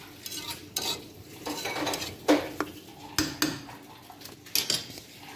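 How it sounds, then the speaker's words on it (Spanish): A utensil scrapes stuck rice off the top of a pot of white rice with dried fruit and nuts, making irregular scraping strokes and metallic clinks over a soft simmering hiss, close by. "Despegamos todo el arroz que quedó arriba para que se cosa todo."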